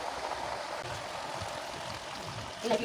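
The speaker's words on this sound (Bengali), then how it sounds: "তো আমি এখন সিদ্ধ হওয়ার জন্য একটু পানি দিব" Water pours steadily into a pot of raw jackfruit pieces set out for boiling, a soft continuous rushing wash that runs for a few seconds without a break.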